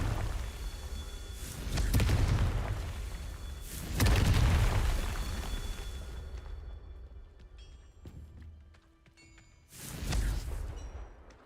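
Fiery spell blasts from the Confringo curse in the Hogwarts Legacy video game: several loud booming bursts, with a big blast near the start, another midway and a final one near the end, each trailing off into rumbling debris.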